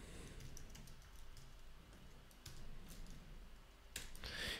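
Typing on a computer keyboard at a terminal, scattered quiet key clicks and taps spread over several seconds, with a sharper burst of keystrokes near the end and no talk.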